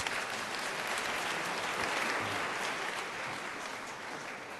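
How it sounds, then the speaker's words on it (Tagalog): A chapel congregation claps loudly during an evening December homily, a steady, dense wash of applause filling the room for several seconds without any clear speech. "pumalakpak ng malakas"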